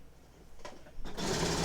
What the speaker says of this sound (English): make sure that everything lays nicely, and then sew it